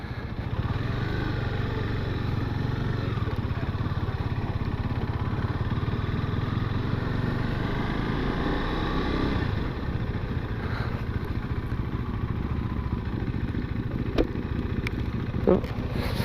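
A motorcycle engine runs steadily nearby on a ride out to Holme Moss, a low idling rumble that fades partway through, with scattered clatter and faint voices around it.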